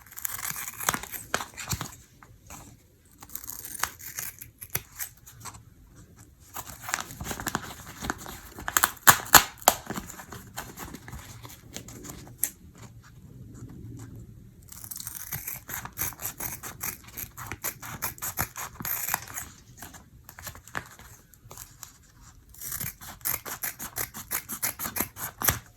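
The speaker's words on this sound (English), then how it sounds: "I'm going to cut the mask up. So I'm cutting it up and see what's inside." Scissors snip and rip through a KF94 kids face mask with repeated close crunching cuts, crinkling and tearing material in irregular bursts and pauses.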